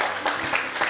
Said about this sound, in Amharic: አጨብጭቡ ለእግዚአብሔር ክብር።